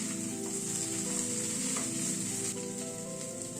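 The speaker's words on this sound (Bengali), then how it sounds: "ডালটাকে দিয়ে প্রায় আরো মিনিট 3-4 মতো কষিয়ে নিলাম।" Dal and chicken masala sauté in a hot pan with a steady, close, unbroken sizzle, and faint stirring scrapes run underneath throughout.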